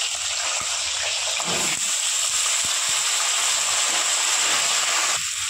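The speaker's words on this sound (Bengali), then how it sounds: "এবার আমি কেটে রাখা আলুগুলো ভেজে নেব" Cut potatoes fry in oil in a pan for a fish curry, giving a steady, close sizzling hiss with a few faint clicks and stirring taps throughout.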